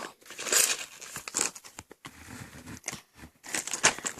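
Plastic packaging of a Lego ocean explorer set crinkles and tears in close, irregular bursts as it is opened by hand, with brief pauses between rustles.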